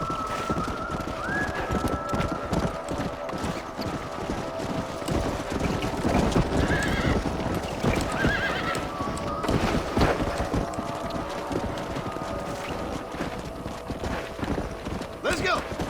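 Horses in the Red Dead Redemption game neigh and whinny while hooves clip-clop steadily, close and continuous, with voices talking over the scene.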